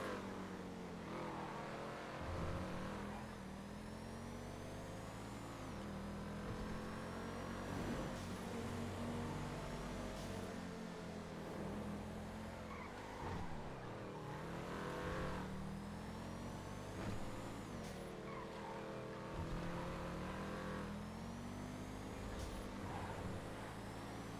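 Cars race and rev through a car chase in a video game, engines roaring and shifting pitch with repeated acceleration swells, steady and loud throughout with no talk over them.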